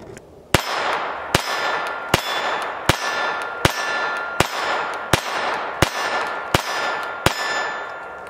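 Small .22 LR rounds being pressed into a Glock G44 pistol magazine: about ten sharp, close metallic clicks at an even, unhurried rhythm, with no talking.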